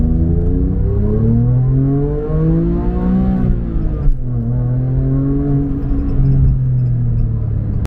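A Porsche GT3 engine revs loudly toward 8,000 rpm and climbs in pitch, drops briefly as the gear changes, then rises again in a sustained, close-up roar.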